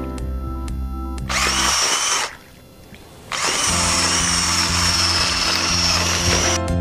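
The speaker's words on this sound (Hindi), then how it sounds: "ये है एक बैटरी पावर ड्रिल मशीन और इससे हम बनाएंगे एक यूनिक सा एक्सपेरिमेंट" A battery-powered drill spins a propeller fitted in its chuck, a loud steady whirring buzz that cuts out for about a second, then spins back up and runs on continuously, with no voices.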